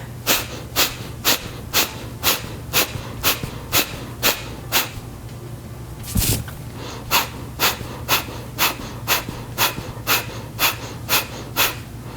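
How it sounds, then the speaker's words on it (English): Deep belly breathing with forceful exhales, about twenty sharp rhythmic breaths at an even pace with one longer breath midway, close and clear with no talking. "my belly is moving in and out with the force on the exhale, drawing the belly muscles in"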